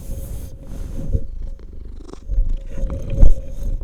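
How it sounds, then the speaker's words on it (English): A cat purrs right up against a microphone, a loud, close, rumbling purr in rhythmic waves with occasional bumps and thumps as it presses against it. "What is it with these cats and my microphone?"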